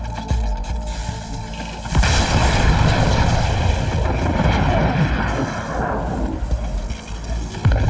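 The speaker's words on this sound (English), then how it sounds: "the engines are still running" Aircraft engines roar in the Cyberpunk 2077 video game, a loud, dense, rumbling drone that surges after a sharp impact and holds steady, with muffled thumps and booms mixed in.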